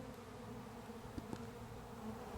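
Honey bees hum at the entrance of a beekeeper's first hive, a faint, steady buzzing drone with a couple of brief closer passes of single bees.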